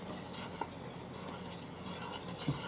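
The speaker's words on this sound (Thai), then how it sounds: "คนผสมให้เข้ากัน" A balloon whisk stirs cocoa sponge cake batter in a bowl, giving a steady soft scraping swish with faint clinks, close and continuous with no talk.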